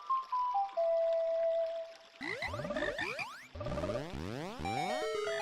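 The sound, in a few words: A song played on ocarina in Ocarina of Time video game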